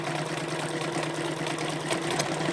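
A Dressmaker SL-2010 sewing machine stitches in reverse, giving a steady, close mechanical whir with a fast even needle rhythm and a slight hum running through.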